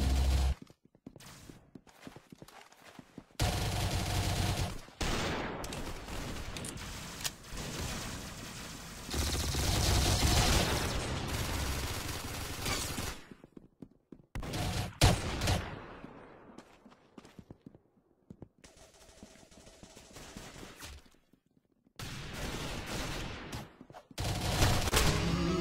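Rapid bursts of gunfire from a video game shooter, loud and close, in several stretches of shots separated by short quiet gaps.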